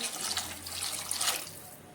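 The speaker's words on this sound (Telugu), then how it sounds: "తగినన్ని నీళ్లను పోసుకోవాలి" Water pours into a pot of drumstick tomato rasam in a short, splashy, gurgling stream, close and fairly quiet, trailing off at the end.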